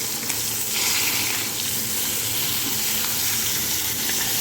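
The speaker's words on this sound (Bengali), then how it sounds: "আগে মাছগুলো ভেজে নিচ্ছি" Pieces of rohu fish frying in hot oil in a pan, a steady dense sizzle and crackle that continues evenly and close up with no talking.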